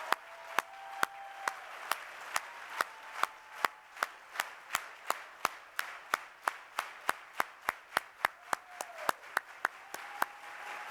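Union members at a teachers' union conference clap in a steady, evenly spaced rhythm, sharp distinct hand claps repeating about three per second, fairly close, with no talking over them.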